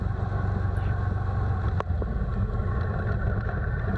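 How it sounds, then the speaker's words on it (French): A motorcycle on a riding test course speeds up for an emergency braking exercise, its engine a loud, steady, close drone for the whole stretch with one brief sharp knock midway. "On s'élance alors à un minimum de 50 km/h pour réaliser l'exercice de freinage d'urgence."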